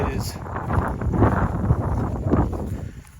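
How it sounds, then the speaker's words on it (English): Wind buffets the microphone in gusty, low rumbling bursts, with a voice speaking faintly underneath. "It's very windy up here today."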